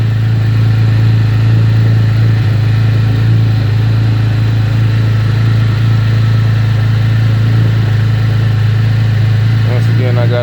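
A 2010 Chevrolet Camaro with 143K miles runs loudly just after startup, giving a steady, strong idle drone that holds evenly throughout at close range with no voices over it.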